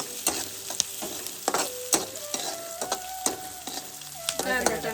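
Onions sautéing in a pan sizzle steadily while a utensil scrapes and stirs in sharp, repeated clinks, close and fairly quiet, with no talk over it.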